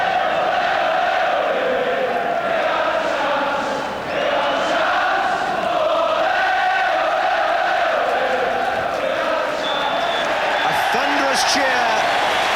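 Loud, steady roar of a football crowd cheering at a Liverpool match against Nottingham Forest, a dense wall of voices lasting throughout with a brief dip partway through.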